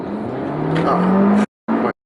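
A 2-litre Volkswagen Group engine in an Audi TT Mk2 coupe revs steadily up to its redline at about 6,500 rpm, holds loud for over a second, cuts off, then gives one short burst.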